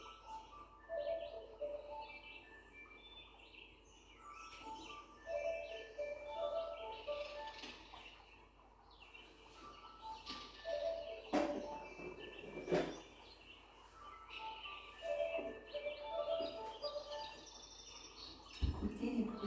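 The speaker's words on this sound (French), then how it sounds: "Entendre le chant des oiseaux," Birds sing in a natural outdoor setting, several light chirps and short whistled phrases repeating on and off at a moderate distance. The calls are fairly faint over a soft background hush, with no voices.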